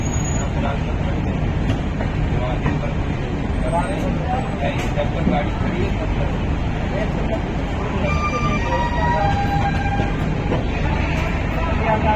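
At a Jaipur railway station platform a train rolls steadily past with continuous rumbling and faint wheel squeals, while someone talks over the noise.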